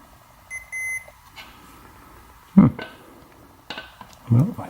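A single confirmation beep from the flight controller of a 4-inch drone during replacement work, a brief tonal chirp near the start with soft handling noises and faint voices following.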